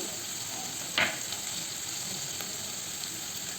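Panch phoron spices sizzle steadily in hot oil with turmeric and salt for a kuchia fish curry, a constant close hiss broken by one brief clatter early on.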